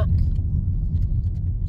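Steady low engine and road rumble inside a moving car, continuous and fairly loud with a faint jingle of keys, no talking.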